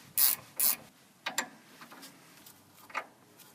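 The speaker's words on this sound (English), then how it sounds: "we're going to use a 14mm socket attached to our breaker bar to loosen up this lower caliper bolt" Socket wrench on a breaker bar working brake caliper bolts on a 1997 Mitsubishi Montero, giving two sharp metallic ratchet clicks followed by fainter, scattered clicks and rubbing in a quiet garage.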